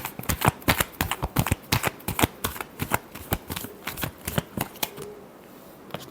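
Tarot cards riffle-shuffled by hand in a quick run of crisp, close flapping bursts, each slap sharp and bright, easing into a quieter rustle at the end.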